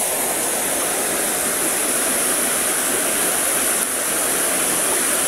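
Libtong Falls roars as water pours down in a steady, loud, unbroken rush of white noise that masks everything else.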